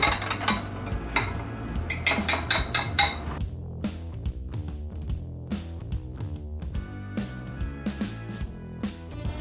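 A utensil scrapes and clinks against a mixing bowl as oil is stirred into a white bread mixture, a busy burst of clatter first, then slower, lighter clicks and taps close by with no voices.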